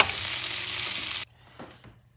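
Seafood for seafood ramen cooks in a hot pan, giving a steady close sizzle that cuts off abruptly about halfway, followed by faint clinks and quiet kitchen noise.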